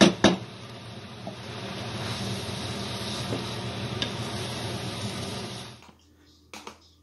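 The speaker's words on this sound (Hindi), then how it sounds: "इसको आप अच्छी तरह मिक्स करें।" Korean beef sauce spaghetti is stirred in a pan with a soft, steady scraping and light sizzle that runs evenly for several seconds, then stops abruptly, followed by a couple of brief knocks near the end.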